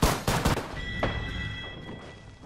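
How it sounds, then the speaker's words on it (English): Rapid gunfire from a firefight in the video game Apex Legends: several sharp, loud shots crack in quick succession at the start, then a quieter burst follows and fades into a ringing tail. "Opening fire on the enemy"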